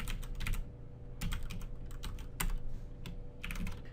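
Someone types code on a computer keyboard in short bursts of close, crisp key clicks with brief pauses between them, moderately quiet and with no talking.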